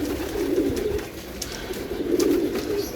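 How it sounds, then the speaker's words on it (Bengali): Racing pigeons in a loft in Mirpur, Dhaka, males cooing back and forth at each other in steady low rolling calls, close and continuous with a faint busy background. "নর নরের সাথে ডাকাডাকি করে ঘোরাঘুরি করতে হচ্ছে"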